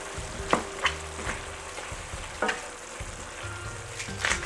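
Cherry tomato sauce with basil simmers and sizzles in a pan, a steady soft crackle broken by occasional sharper pops and stirring clicks, with no talking.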